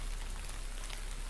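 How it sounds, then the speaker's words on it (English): Steady rain falling in the video game Dark Nights, a dense, even hiss of drops on surfaces that continues unbroken and fairly close. "It starts to rain and roar heading home."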